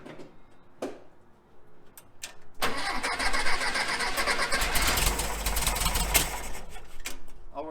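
A Volkswagen Thing that sat for over twenty years cranks briefly, then catches and roars into a loud, rough, steady run that holds for several seconds, close up, after a few scattered clicks and knocks.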